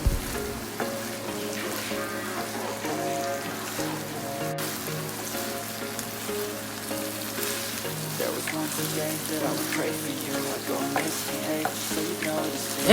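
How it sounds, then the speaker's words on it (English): Cooked pasta tossed and stirred into a thick tomato mixture in a pan, giving a steady soft sizzle with scraping and mixing sounds that run continuously under background music. "I'm going to go in with my pasta, mix everything up like this until it is well combined."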